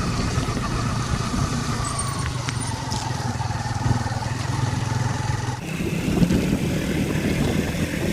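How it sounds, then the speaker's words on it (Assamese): A bus passes on a hilly road in flood season, its engine a loud, steady roar near the mic. The rumble shifts in tone partway through as it goes by, and no voices are heard. "এই বাছ আহিছে বাছখন পাৰ হ'লে আমি যাওঁ"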